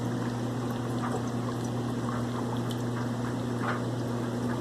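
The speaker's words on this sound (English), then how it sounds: "wow, that thing's really leaking" Water hisses and trickles steadily from an old, leaking hot water heater, a constant close wash of liquid over a low electrical hum, with no talking.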